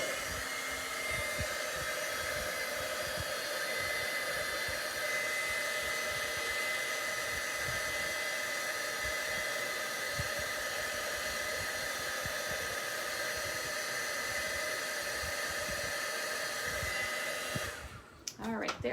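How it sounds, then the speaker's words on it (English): A heat tool blows hot air to melt embossing powder in a loud, steady rushing hiss that runs unbroken for about seventeen seconds before cutting off with a brief clatter at the end. "I am going to turn on my heat tool real quick."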